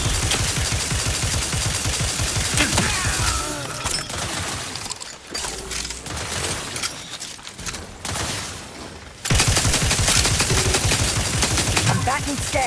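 Rapid bursts of video game gunfire on Linux, loud and dense across most of the stretch, with a brief quieter gap before the firing resumes at full intensity, with some speech mixed in.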